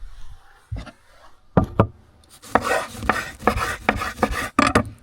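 Knife slicing through a rare steak cooked in butter at a snowy campsite, a run of sharp scraping cuts and knocks against the board, close and clear with no talk.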